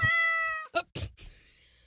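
A cat meows several times close by, a long clear tonal meow followed by short chirpy meows and a softer trailing one, loud and without talking.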